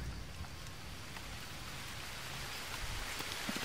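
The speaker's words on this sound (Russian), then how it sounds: "Так, дождь идет," Rain in the survival video game Green Hell falls as a soft, even hiss with scattered drop ticks, steady and fairly quiet.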